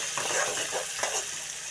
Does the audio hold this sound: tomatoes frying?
yes